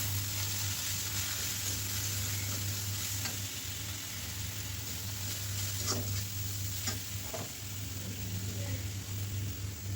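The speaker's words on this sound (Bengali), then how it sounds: "একটু লবণ দিয়ে পেঁয়াজটা ভালো করে ভেজে নেব" Onion frying in a pan with ginger and garlic paste just added, a steady close sizzle with occasional stirring scrapes, no talking.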